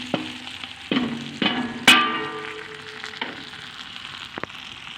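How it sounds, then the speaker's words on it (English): Serrano peppers sizzle in a pot while being cooked down for homemade salsa, a soft steady frying hiss punctuated by several sharp clanks and scrapes of stirring, close and fairly quiet. "I just added the serrano peppers to here to start cooking those down"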